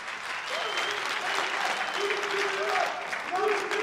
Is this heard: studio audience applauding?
yes